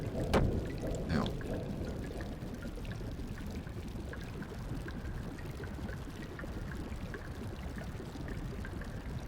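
Waterfall in the game Xenogears, a steady rushing, pouring wash of water at moderate distance, continuous and even, with a couple of brief clicks at the start.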